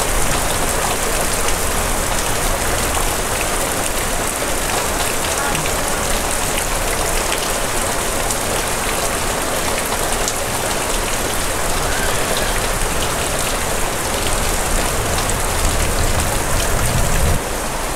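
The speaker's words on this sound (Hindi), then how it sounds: "और बारिश देखो कितनी तेज़ हो रही है" Heavy monsoon-style rain pours steadily and loudly on a damaged home, a dense continuous hiss of drops drumming on surfaces with no letup.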